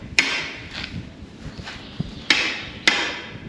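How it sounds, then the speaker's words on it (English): Sharp metallic lump hammer blows drive posts in at uneven intervals, three louder hits among fainter knocks, fairly close, against a quiet outdoor background on a dairy farm. "I did have to use a lump hammer to get some of them in"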